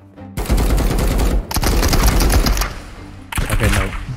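Loud, close bursts of automatic fire from a Stoner rifle in the video game Marauders, three rapid full-auto strings separated by brief pauses.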